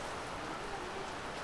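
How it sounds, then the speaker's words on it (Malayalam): Rain falls steadily in a hill-country setting in Kerala, a dense and even hiss with no voices. "മഴ മഴ മഴ."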